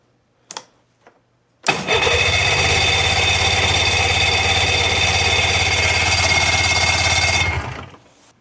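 A snowmobile engine is started on choke: a couple of faint clicks, then it catches and runs loud and steady for several seconds before cutting off abruptly.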